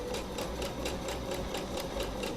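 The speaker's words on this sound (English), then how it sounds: "Continue sewing." A sewing machine stitches a seam on a winter coat with interfacing, running in a fast, even mechanical chatter of repeated needle strokes, close and continuous, with no speech.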